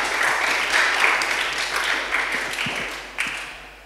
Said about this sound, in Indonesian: Kita kasih tepuk tangan dong untuk Arji.